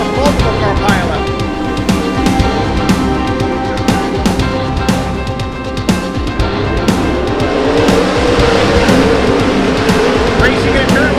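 Race cars roar around a dirt track in a loud, continuous engine rumble with rising and falling passes, while an announcer calls the action over the noise.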